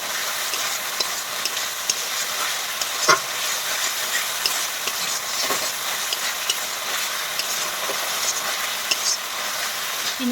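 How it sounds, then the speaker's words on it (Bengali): Bitter gourd curry with red chilli powder and spices sautéed in a pan, a steady close sizzle with scattered spatula scrapes and taps as it is stirred. "তো সব কিছু দিয়ে একটু ভালোভাবে কষে নেব।"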